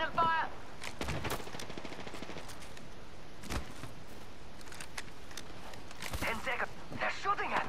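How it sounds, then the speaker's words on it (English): Video game gunfire from a battle royale match, with bursts of sharp shots and rapid repeated firing at varying distances over a steady ambient background, with a voice speaking briefly at times. "I'm opening fire."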